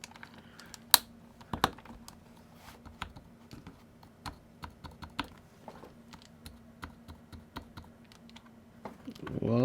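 Keycaps snap one after another onto a KBD67 Lite gasket-mount mechanical keyboard, sharp plastic clicks and taps in an irregular rhythm, close and fairly loud, with a louder rustle at the end.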